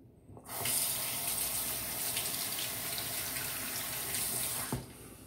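Hot water gushes steadily from a tap into a sink for several seconds, close and fairly loud, starting and stopping abruptly, during beard trimming.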